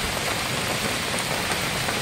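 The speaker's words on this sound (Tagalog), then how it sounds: "Sobrang lakas ng ulan." Heavy rain pours down hard and close, a dense, loud, unbroken hiss of drops striking surfaces throughout, with no voices.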